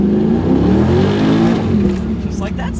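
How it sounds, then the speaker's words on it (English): A Pontiac Trans Am WS6 engine, modified, gives a loud close rev that swells and then falls away as it revs down, with a voice talking over the engine throughout. "throw it into first, give it a little rev, and then have it rev down"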